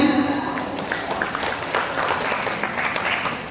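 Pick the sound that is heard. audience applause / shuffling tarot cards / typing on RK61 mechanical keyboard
audience applause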